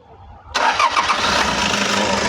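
A Toyota Hiace engine cranks and fires, catching abruptly into a loud, steady idle close by with no voices over it.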